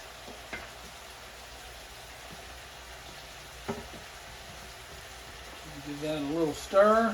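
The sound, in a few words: stirring cabbage, noodles, kielbasa and peas frying in pan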